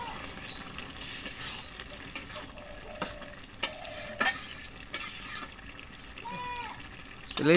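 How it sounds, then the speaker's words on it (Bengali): Curry sizzles in a pot on the stove as broth is poured in, with soft bubbling and frying hiss broken by intermittent clinks and scrapes of stirring. The sounds are fairly faint and close. "এখন তরকারিটা কষানো হয়ে গেছে, এখন ঝোল দিয়ে দিচ্ছি।"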